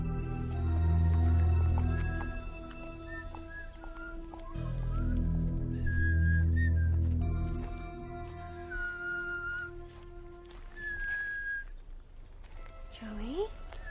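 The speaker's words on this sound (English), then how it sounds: "Why are you whistling that?" A high, thin whistled melody drifts in short phrases over steady background noise, with low rumbling sounds and occasional voices nearby.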